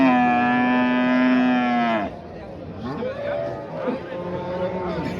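A cow at a livestock market in Kattaqurgon, Samarkand, lets out one long, loud, close moo that ends abruptly, followed by murmuring crowd chatter and lower calls in the background.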